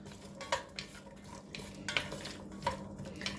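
Celery and carrots tipped into a pot while cooking potato soup, giving a few clattering knocks and stirring scrapes over a low sizzle, with clear hits near the start, middle and end.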